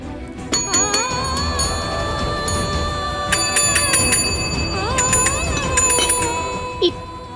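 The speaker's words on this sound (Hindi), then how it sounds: "घंटी बजाइए ना" A hand bell rings at a breakfast table in a family home, giving several bright metallic rings in short bursts over a steady musical tone, with a clearly audible bell tone near the end.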